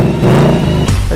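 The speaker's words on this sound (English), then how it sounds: "Okay, engine on. Sport exhaust." Ford Mustang V8 with sport exhaust firing up, a loud close rumbling burst that swells and settles into a deep throaty idle over about a second.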